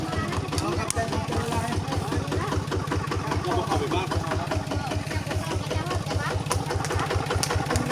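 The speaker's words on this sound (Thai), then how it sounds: "มีรถไถ มีรถไถ เข้ามาแก้มาเข้ามา" A tractor engine chugs steadily nearby in a fast, regular rhythm, with people talking over it.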